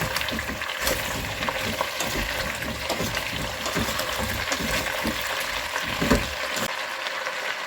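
Steady, loud sizzling of potatoes frying in a pan, with scraping and clinking as they are stirred throughout.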